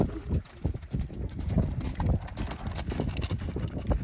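A horse walks under a rider, its hooves clip-clopping in a steady, fairly close rhythm against light wind noise, with no clear talk.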